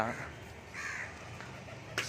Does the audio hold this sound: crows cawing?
yes